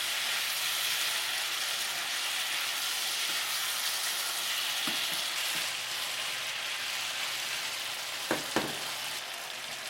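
Vegetables for Chinese soy sauce spare ribs sizzle in a hot pan with a steady, bright frying hiss throughout, followed near the end by a couple of brief utensil knocks.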